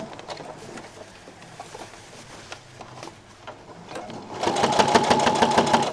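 A sewing machine stitching, starting with lighter intermittent running and then settling into a louder, steady rapid mechanical chatter in the last second and a half, close up with no voices.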